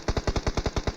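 Rapid automatic gunfire rattles in a video game battle, about ten sharp, evenly spaced shots in one second, loud and close with no voices.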